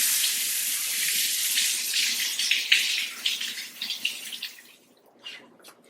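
Garden vegetables are washed under a running tap, a steady close splashing hiss of water that thins out into scattered drips and splashes as the flow stops near the end.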